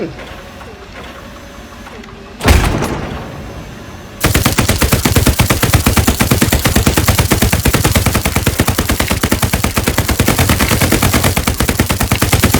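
Gunfire in the World War II shooter Hell Let Loose: a single sharp shot, then a loud, sustained rapid machine-gun burst hammering continuously for about eight seconds, with voices talking before and around it.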